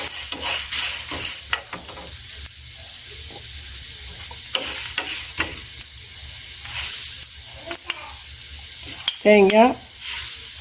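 Dry red chillies, coriander, coconut and ginger roasting in a pan on a traditional stove, giving a soft steady crackle and hiss broken by scraping strokes of a spoon, close and alone.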